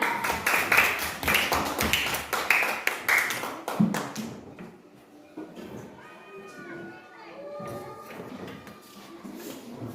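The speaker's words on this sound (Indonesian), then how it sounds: "Tepuk tangan." Children in a classroom clap their hands in rapid, rhythmic volleys for about four seconds, close and lively, then the clapping stops and children's voices and chatter continue more quietly.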